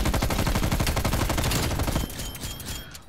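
Rapid automatic gunfire from a Call of Duty: Black Ops Cold War match, a dense, loud stream of shots that thins out and drops quieter in the last second, with no talking.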